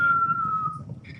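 A human voice imitates a falling bomb's whistle, a single thin sustained tone sliding slowly downward for under a second before breaking off into a faint short sound.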